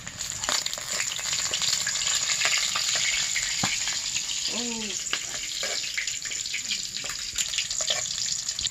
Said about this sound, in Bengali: আলুগুলো আর একটু ভালো করে ভেজে নিব